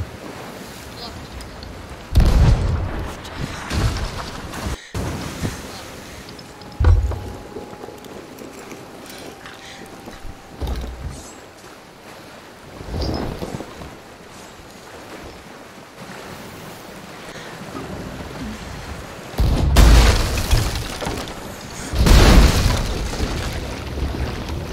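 Ship cannons fire in the pirate game Sea of Thieves, several heavy booms spaced apart over rushing waves and wind, with a voice briefly calling out between shots.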